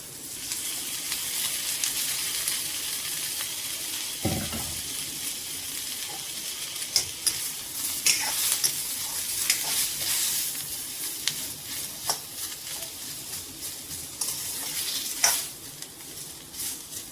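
Onions roasting in oil in a pan for paneer masala, a steady sizzle running throughout with scraping stirs and a few louder clacks of the spoon against the pan, up close with no talking.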